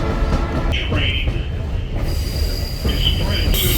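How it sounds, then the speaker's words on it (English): Train on a Blue Ridge mountain ride rolling along the rails, loud steady rumble with repeated high metallic wheel squeals, heard close up from on board. "Train"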